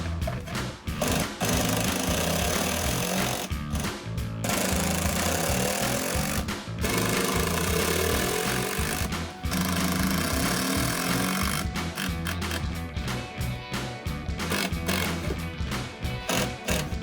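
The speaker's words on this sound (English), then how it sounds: "So now all the bolt holes are reamed out." A power tool reams out bolt holes for a rear spoiler on a 2010-2014 Ford Mustang, a loud continuous grinding whir with brief stops and restarts, heard close up with no talk over it.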